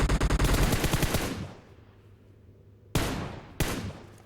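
Gunfire from a battle royale video game on the Livik map: a rapid automatic burst fades into quiet, then two sharp single shots follow.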